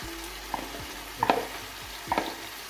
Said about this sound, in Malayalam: നമ്മൾ ഫ്രൈ ചെയ്ത് വെച്ച ചിക്കൻ എടുത്തിട്ട് നന്നായിട്ട് മിക്സ് ചെയ്ത് വെക്കാം.